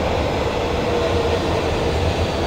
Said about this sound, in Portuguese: Chegando ali, ó, o metrô.